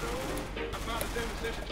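SMG gunfire in CS:GO, a dense rattle of rapid shots with sharp bursts over a noisy game mix, while a voice talks.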